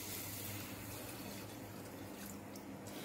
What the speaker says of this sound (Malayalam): അതിക്ക് നമ്മള് 3/4 കപ്പ് പഞ്ചസാരയും അതിക്കുള്ള വെള്ളം 3/4 കപ്പ് വെള്ളവും ഒഴിക്കാം.